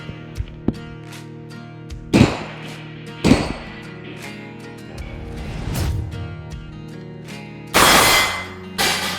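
Several sharp, loud gunshots ring out one at a time at a shooting range, recorded with the microphone inside hearing-protection earmuffs; each is a sudden crack with a brief decay, with gaps between them over a quiet background.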